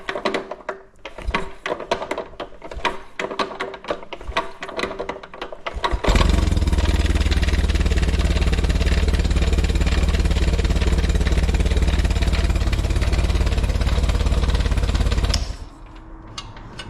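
A pre-war Riley Brooklands engine cranking with sputtering, irregular firing, then catching and running at a loud, steady, rough idle for about ten seconds before cutting off abruptly.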